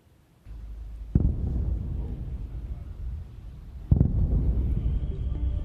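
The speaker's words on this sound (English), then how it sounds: "As explosions rang out in the capital city of Kyiv" Two heavy booms of explosions in the capital city of Kyiv, Ukraine, each a sharp crack followed by a long low rumble, distant but powerful over a steady outdoor wind-like background.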